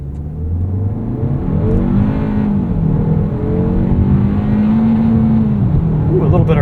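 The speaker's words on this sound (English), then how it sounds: "Should we rattle off a quick 0 to 60? I think so. I'm just going to step into it." A 2026 Kia K4 GT-Line hatchback with a turbo engine accelerates hard from 0 to 60, heard from inside the cabin. The loud engine note rises steadily in pitch without a break.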